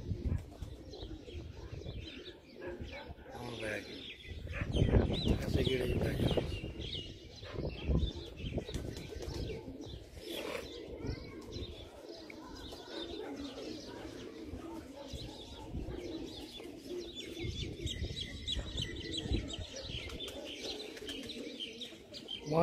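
A homing pigeon back at its loft after a night away, low soft cooing amid chirps and rustling, with a louder flurry near the start, under intermittent talk over about twenty seconds.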